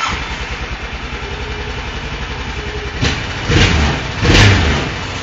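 A Honda engine in a Rincon 650 ATV build idles steadily with a low, even rumble that swells briefly toward the end, close and fairly loud with no talking.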